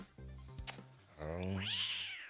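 A cat meow sound effect plays, a drawn-out wavering yowl that rises and bends in pitch. It follows a brief human voice and a short click, and sounds close and clear.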